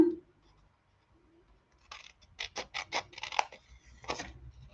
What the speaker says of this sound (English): we're going to bring our scissors, and we're just going to cut all 4 of those little scores